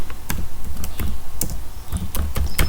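Rapid, close clicks of a computer keyboard as account details such as a username, password and email address are typed in, an uneven run of crisp keystrokes with short pauses.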